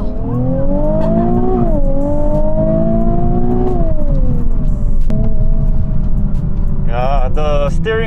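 A 2020 Nissan 370Z NISMO accelerates hard, its engine note climbing steadily through the gears with loud, close, continuous drone and a brief whine near the end; a voice speaks briefly over it.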